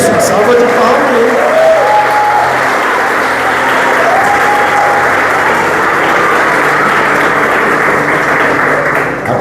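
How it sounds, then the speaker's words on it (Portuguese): Enthusiastic applause from a crowd at a church revival meeting, loud and continuous for several seconds, with a voice or two calling out over the clapping. "Isso, salva de palmas aí."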